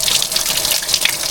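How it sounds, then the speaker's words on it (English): Coolant pours steadily from a car radiator being drained during repair work, a continuous close gushing splash of liquid with no voices. "So I need to drain the radiator."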